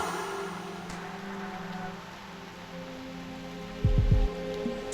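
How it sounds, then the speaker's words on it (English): Rain falling steadily in the video game Reverse: 1999, a soft continuous patter with a low hum underneath and a brief thump near the end. "The rain is making too much noise."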